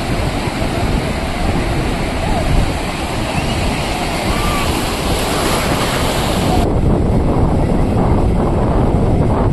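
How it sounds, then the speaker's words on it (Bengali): Sea waves at Bakkhali beach roll in with a loud, continuous surf roar, heavily mixed with wind buffeting the microphone throughout. "দেখো জলের ঢেউগুলো শুধু দেখো"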